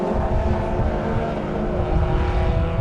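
Toyota MR2 race cars battle nose to tail at Rockingham in the Millers Oils Toyota MR2 Championship, making a loud, continuous engine roar close by with rising and falling pitch and no break.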